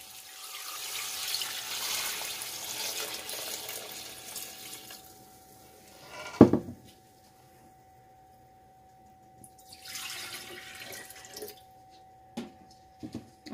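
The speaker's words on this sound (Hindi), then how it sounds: "और 1 गिलास ये और डाला मैंने पानी।" Water poured from a glass into a cooking pot of yakhni stock and rice for Punjabi mutton pulao, a steady splashing pour for about six seconds, then a sharp clink and a second, shorter pour, with no talking.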